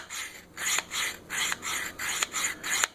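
A knife blade is drawn across a Work Sharp Field Sharpener, producing about six rhythmic raspy strokes, close and crisp, with brief pauses between passes.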